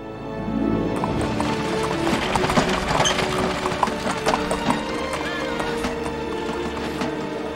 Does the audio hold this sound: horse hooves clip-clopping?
yes